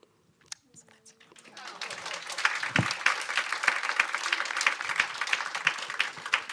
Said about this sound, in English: Can we have another round of applause for the chat?